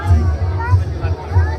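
Crowd murmur and chatter fill the air at a busy Durga Puja evening, a dense close hubbub with voices talking nearby.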